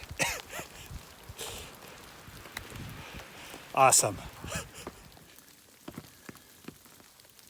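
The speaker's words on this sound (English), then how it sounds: "The rain started." Soft rain patters steadily on surfaces on the Appalachian Trail, with scattered droplet hits and rustling, while a voice briefly speaks over it.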